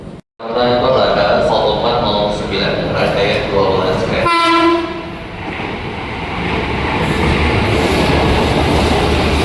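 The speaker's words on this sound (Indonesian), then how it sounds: "Nah, ini masuk komuter tujuan Jakarta Kota, rangkaiannya 12 kereta" A 12-car KRL commuter train, a JRS 205 series bound for Jakarta Kota, rolls into the station with a loud horn blast and steady rail rumble, heard close and sustained throughout.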